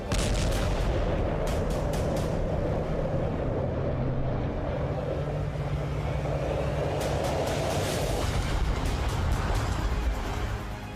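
A loud, sustained rumbling blast with crackling bursts and booming echoes, a heavy explosion of a Russian warship in the Black Sea heard from a distance without any talking.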